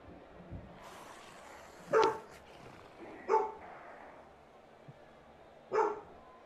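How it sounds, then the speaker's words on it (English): Dog barking at someone in front of the house, heard indoors at a distance: three sharp, separate barks spaced a second or two apart, with faint background noise between them. "For once, it's not my dog that's barking on the stream."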